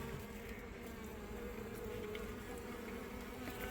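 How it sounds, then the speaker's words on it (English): Honeybees drone steadily and densely up close during a hive rescue from a bathroom, a continuous buzzing swarm mixed with the steady hum of a bee vacuum. "I'm gonna vacuum the rest of these bees and put my hive outside"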